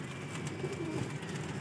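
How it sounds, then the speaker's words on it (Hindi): Caged pet pigeons coo in low, steady murmurs close by, drawn in to pick up spilled chickpeas, their soft cooing blending into a continuous hum over the short stretch. "चने चने जो है वो उठाने के लिए कबूतर आ गए।"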